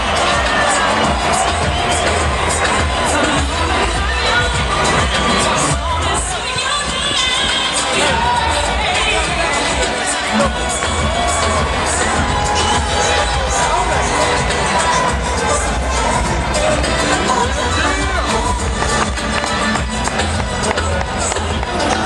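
A packed boxing arena crowd before an Evander Holyfield heavyweight fight roars and cheers continuously, a loud dense wall of shouting and applause that never lets up, with a commentator's voice buried underneath.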